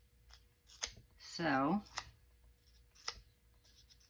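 Scissors snip paper for a faux 1908 passport document: a few sharp, close cuts spread across the moment, with one longer drawn-out slice in the middle and a brief spoken word.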